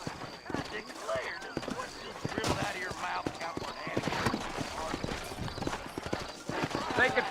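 Horse hooves clip-clopping in the video game Red Dead Redemption, a steady walking rhythm of hoof strikes close by, with a voice talking over them and occasional other game sounds.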